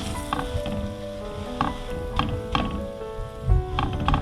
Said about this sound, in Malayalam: നമുക്ക് സ്വല്പം ബട്ടർ ഇടുക ബ്രെഡ് ടോസ്റ്റ് ചെയ്തെടുക്കാം